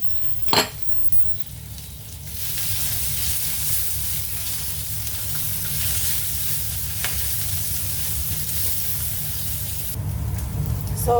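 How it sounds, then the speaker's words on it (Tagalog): Pork fat fries in hot cooking oil in a pan, a steady close sizzle that swells after a couple of seconds and holds, with a single sharp clink near the start. "Lagyan ko ng mantika. Then, ipiprito ko to. Prito ko yung taba."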